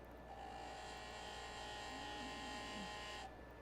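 A gemstone cabochon is ground on a faceting machine: a steady, close electric whir with a high-pitched hum runs throughout and cuts off abruptly near the end.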